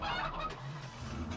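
Chickens cluck faintly in a chicken fattening area in Farming Simulator 2015, a soft continuous fowl murmur set against steady low ambient game noise.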